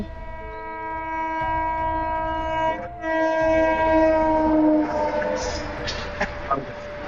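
A train on a plateau railway sounds a long, loud, steady horn as it passes nearby, followed by a rumbling run of wagons with faint talk in the background.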